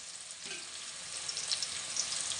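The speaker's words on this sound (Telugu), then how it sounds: "ఆయిల్ వేగుతున్న ఉల్లిగడ్డ, పచ్చిమిర్చి ఫ్రెండ్స్" Onion and green chili fry in hot oil for a fish curry, a steady close hiss and sizzle running evenly throughout with faint crackles on top.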